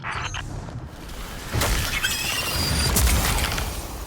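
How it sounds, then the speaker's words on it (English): Void crystals shatter in the Destiny 2 video game, a crisp glassy break followed by bright crackling debris and a second burst, loud and close over a steady ambient game backdrop. "Void crystals bend reality through tightly channeled power. Shatter them to break their control."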